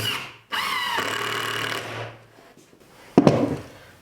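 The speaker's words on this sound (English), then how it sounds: "with the 3-inch screw, we'll send it through, and we shouldn't get any split on our 2x4" A power drill drives a 3-inch screw into a 2x4, a close, whining motor run of about a second and a half that bogs down as the screw seats, followed by a short clatter of handling.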